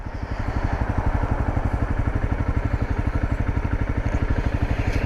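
A tall dirt bike idles at a traffic light, its engine putting out a steady, close, rapidly pulsing low rumble with no talk over it.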